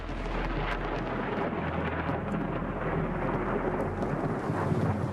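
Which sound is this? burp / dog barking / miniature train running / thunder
thunder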